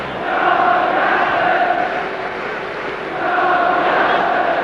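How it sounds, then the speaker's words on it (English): Old Trafford football crowd at the 1968 European Cup Final chanting a player's name in rising and falling waves, a dense roar filling the stadium. "now they're chanting Johnny Aston, Johnny Aston"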